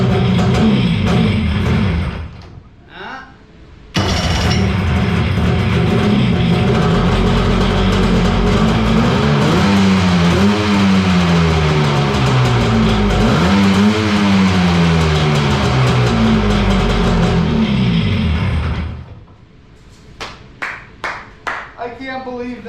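JetStar 1250 engine revs up loud and close, a steady throaty roar rising and falling in pitch for several seconds, then cutting back to a rough idle with sharp pops while people talk.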